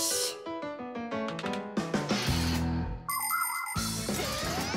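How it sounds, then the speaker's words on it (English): Cartoon ringtone from The Fixies, a bright chiming, tinkling melody of bell-like notes that plays steadily and fairly loud for about five seconds, with a brief shift to a higher shimmering passage near the end. "Come and check out our Fixie ringtone."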